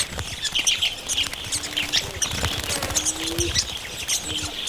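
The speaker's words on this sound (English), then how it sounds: "Grey-headed lovebirds are flocking to the water." A flock of grey-headed lovebirds gathering at water in Madagascar chirps continuously in high, busy calls, overlapping chatter close by.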